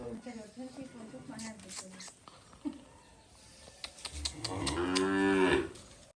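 A cow lows in a village while cattle are being bought, giving one loud, drawn-out moo near the end after a stretch of people talking nearby.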